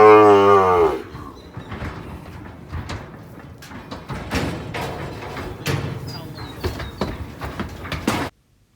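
A weaner calf lows at the start, then hooves clatter and thump on a portable steel loading ramp with rattling clanks, close by and continuous until an abrupt stop.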